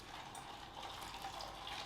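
Boiled water pours and splashes steadily into a container of lion's mane mushroom, faint and close, in a short continuous stream.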